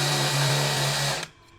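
A DongCheng DCJZ2090i cordless impact drill spins freely with a loud, steady high motor whine and mechanical hum, then cuts off abruptly and winds down into quiet near the end.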